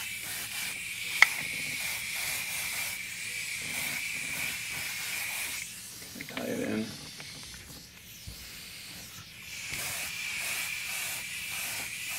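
An airbrush lightly mists paint onto a quarter-scale Aquaman figure, giving a soft continuous hiss in short bursts and pauses, with a quiet voice speaking in between.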